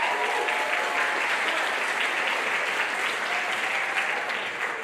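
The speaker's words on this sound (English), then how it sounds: "Give Evan a round of applause." An audience at an after-school music program showcase claps for guitar instructor Evan, a dense, even round of applause holding steady for several seconds before easing slightly, with no speech over it.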